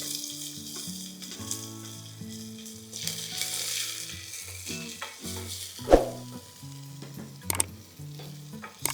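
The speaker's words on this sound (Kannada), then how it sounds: "ಈರುಳ್ಳಿ ಒಂದು ಸ್ವಲ್ಪ ಗೋಲ್ಡನ್ ಬ್ರೌನ್ ಆಗೋವರೆಗೂ ನಾವು ಇದನ್ನು ಫ್ರೈ ಮಾಡ್ಕೊಳ್ಳೋಣ" A medium onion frying in a pan with cumin for palak dal khichdi, a soft close sizzle broken by stirring scrapes and a sharp clatter partway through, with no voices.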